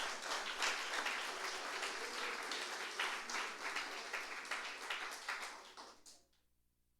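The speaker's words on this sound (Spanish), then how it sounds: "Démosle palmas al Señor por eso." Congregation at a Sunday church service claps for the Lord, a dense sustained burst of applause that fills the room for about six seconds, then stops abruptly into near silence.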